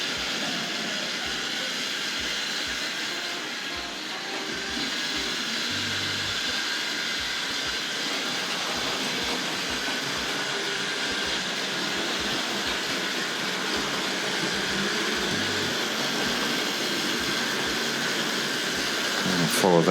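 A Tri-ang Hornby R.653s Continental tank locomotive pulls primary wagons around a model railway track, giving a steady, continuous running whir with faint rhythmic rail clicks throughout.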